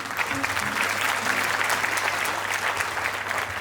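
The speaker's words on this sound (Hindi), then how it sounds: "एक बार जोरदार तालियां मैम के लिए।" Steady, dense applause from an event audience in Ludhiana, sustained at an even level throughout with a faint low hum underneath.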